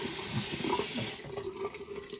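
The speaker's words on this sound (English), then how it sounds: "Washing the hands." A tap runs into a sink while hands are washed after a shave, a soft, steady stream of water with faint splashing, fairly quiet and without voices.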